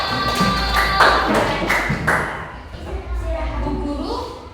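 Grade 5 elementary schoolchildren in a classroom clap their hands in quick rhythmic bursts, then the clapping fades into children's voices and chatter.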